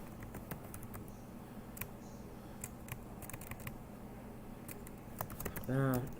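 Irregular clicking of a computer keyboard being typed on, with quick bursts of keystrokes spread through the stretch at moderate level, and a short voiced sound right at the end.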